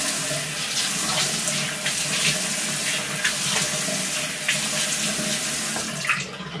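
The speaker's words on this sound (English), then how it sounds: "now I'm going to turn the water on and I'm going to splash some water on my face" Water runs steadily from a bathroom tap into a sink, with irregular splashes as water is scooped onto a face, close and moderately loud.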